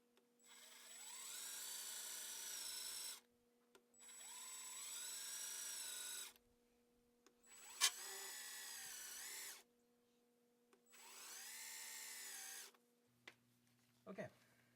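A power drill with a 7/32 inch bit drills all the way through while installing boat trim tabs, running in four separate bursts of about two to three seconds each, whining close by with short quiet gaps between.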